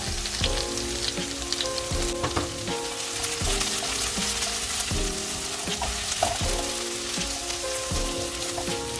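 Ginger and garlic fry with softened onion in a pan for sweet and sour pork, giving a dense, steady sizzle with repeated stirring scrapes throughout, close and without voices.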